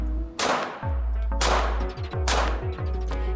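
Three sharp pistol shots from a Taran Tactical Sand Viper ring out loud and close, spaced about a second apart, each trailed by a brief echoing decay and a low thump, with no talking.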